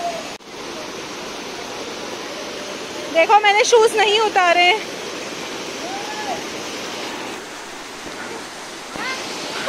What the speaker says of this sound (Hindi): इतनी भयंकर आवाज आ रही है इस वॉटरफॉल की